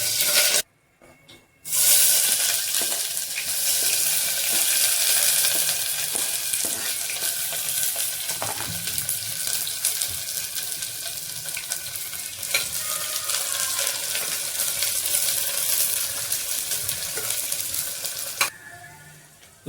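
Onions and green chillies frying in oil with whole spices for a country chicken curry, a loud, dense, continuous sizzle close by, with occasional scrapes and stirring clatter.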